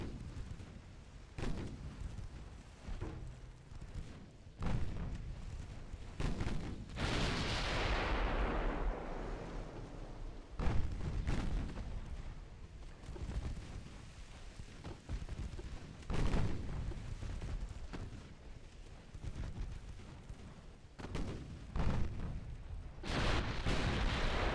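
Naval gunfire and an ammunition detonation after a torpedo strikes the prop shaft in the naval strategy game Ultimate Admiral: Dreadnought, with repeated heavy booms, a large rushing explosion burst and continued rumbling salvos, loud and dense throughout.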